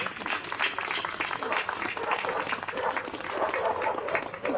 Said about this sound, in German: einen kleinen Applaus für unseren Generalkonsul der Türkei